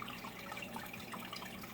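Water drains from a nano reef tank during cleaning, a quiet, continuous trickling and splashing wash with no voices.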